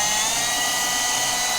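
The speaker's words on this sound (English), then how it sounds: "I'm just going to drill that through there." A continuous high-pitched power drill whine, steady and loud, running without pause, drilling through an aluminium water-fed pole.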